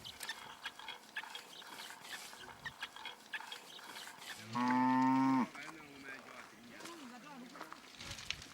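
A Himba cattle herd in Kaokoland: one cow lets out a single loud, drawn-out moo in the middle, with a fainter lowing afterward over a quiet open-air background.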